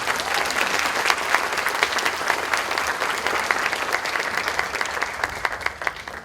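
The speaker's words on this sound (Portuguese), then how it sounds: "eu acho que merece uma enorme salva de palmas e os nossos agradecimentos." An audience at a conference gives sustained applause after a speech, dense rapid clapping from many hands continuing steadily and loudly throughout.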